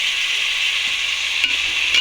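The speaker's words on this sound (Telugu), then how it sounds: "మసాలా దానిలో మిక్స్ అయ్యేలా బాగా కలిపాను" Chicken biryani masala is stirred in a pot. A constant bright sizzling hiss carries a few faint scrapes, heard close and alone with no talking.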